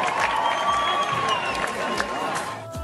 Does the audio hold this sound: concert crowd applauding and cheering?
yes